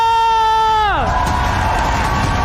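A host's long, drawn-out shout drops away into a loud, steady roar of crowd cheering and applause at the MPL Arena, during an esports league match.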